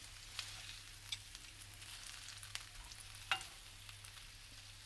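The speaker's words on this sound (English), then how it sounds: "I'm going to leave them for a little bit longer on the first flip, just so that they can kind of sear off a little bit" Burger patties sear in a pan, a steady quiet sizzle of frying with a few faint clinks and taps breaking through now and then; no one speaks.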